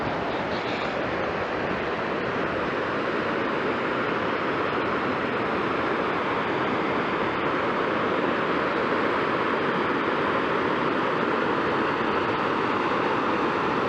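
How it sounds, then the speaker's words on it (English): Big Manitou Falls, Wisconsin's highest waterfall with a 165-foot drop, roars as a dense, unbroken wash of rushing water, loud and close, steady throughout with no voices. "I'm going to show you the highest waterfall in Wisconsin"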